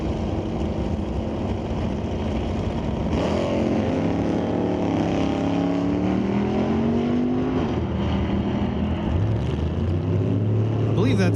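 Drag-strip launch at a raceway: a 1979 Chevy Malibu wagon against a third- or fourth-generation Firebird, loud engines roaring and climbing through gears, with rising harmonic sweeps, steady crowd-level noise and a track announcer talking throughout.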